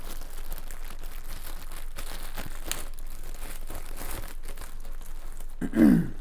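Plastic bag being torn and ripped open by hand, quiet crinkling through most of the stretch and then a short, louder rip near the end.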